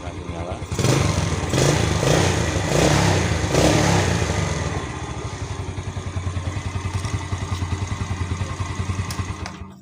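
A motorcycle with an electrical problem fires up on its third try at the starter, then revs loudly and settles into a steady, pulsing idle close by. A person talks at points over the engine.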